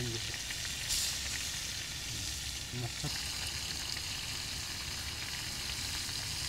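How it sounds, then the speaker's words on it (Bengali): Hilsa fish frying in mustard oil, turned slowly in the pan, giving a steady, continuous sizzle with a few soft stirring clinks near the start and around the three-second mark. "আমাদের মাছ ফ্রাই চলছে আস্তে আস্তে করে ঘুরিয়ে ঘুরিয়ে সুন্দর করে ফ্রাইটা চলছে"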